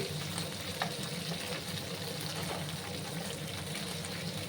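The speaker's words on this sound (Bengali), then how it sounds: "প্রথমে আমি একটু ভাজা ভাজা করে নিচ্ছি।" Cut okra (bhindi) frying in a pan makes an even, moderately quiet hiss and crackle that holds steady throughout, without pauses or clatter.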